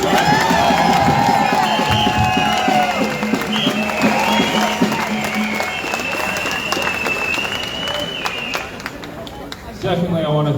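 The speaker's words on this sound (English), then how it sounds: "everyone give yourselves a round of applause for being here" Crowd at an outdoor freedom rally against mandatory vaccination applauding and cheering, a loud, dense wash of clapping and shouting that keeps up steadily for about ten seconds with voices mixed through it.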